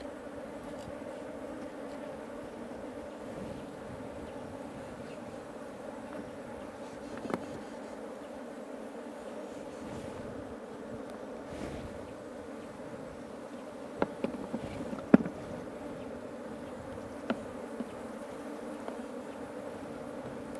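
Honey bees drone steadily around a hive during a honey harvest in Karamoja, Uganda, a continuous close buzz lasting throughout, with a few faint clicks and knocks of handling near the end.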